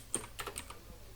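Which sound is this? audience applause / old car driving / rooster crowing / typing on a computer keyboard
typing on a computer keyboard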